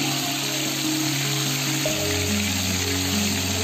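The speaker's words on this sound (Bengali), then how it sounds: "এখানে তেলাপিয়া মাছটা ভেজে নিচ্ছি।" Tilapia fish frying in hot oil in a home kitchen, a steady close sizzle with a low hum running underneath and no talking throughout.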